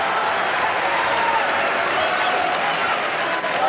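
A boxing crowd in the Albert Hall rises and applauds during a close fight, a dense, steady wash of clapping and cheering that holds loud and unbroken throughout.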